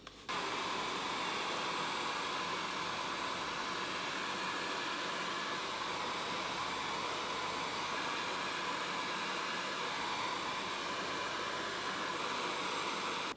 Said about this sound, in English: is it possible to use a hairdryer on it?